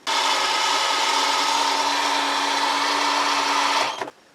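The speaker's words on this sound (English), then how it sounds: "Well, I've got my cordless drill out." Cordless drill with a low battery driving screws into wood in a shower-area build, one loud steady high whine running about four seconds before it cuts off abruptly, with no talk.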